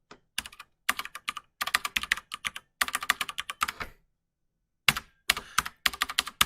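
Computer keyboard typing in quick bursts of close, crisp key clicks, broken by short pauses and one longer silence before a final flurry of keystrokes.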